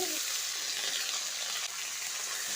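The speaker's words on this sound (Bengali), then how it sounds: "ফোড়ন কয়েক সেকেন্ড ভেজে নিয়ে এর মধ্যে দিয়ে দিচ্ছি কেটে রাখা আলু" Diced potatoes go into hot oil with tempering spices, a loud, bright, continuous sizzle right up close, with a brief clatter at the start and no talking.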